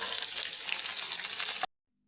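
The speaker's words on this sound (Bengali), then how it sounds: "আলুটা দিয়ে আমি একটু ভেজে নিয়েছি" Potatoes and jackfruit seeds frying in hot oil, a dense bright sizzle close up that runs steadily and then cuts off abruptly into silence.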